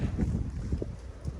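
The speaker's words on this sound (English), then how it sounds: "It's kind of windy." Wind buffets the microphone on a farm in Portugal in low, rumbling gusts, a steady rough roar throughout.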